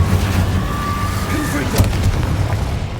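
An Incendio fire spell is cast in Hogwarts Legacy, a loud rumbling burst of blast and roar with a whooshing tone, set against a dense game soundscape, peaking sharply near the middle.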